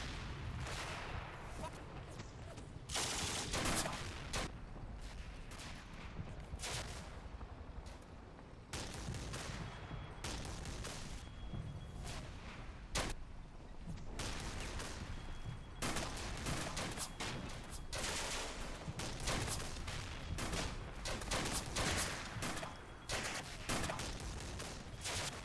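Gunfire pours onto a trench in Combat Mission Afrika Korps, a 1940 battle with rapid machine-gun bursts and sharp rifle and artillery cracks in irregular clusters, loud and sustained throughout.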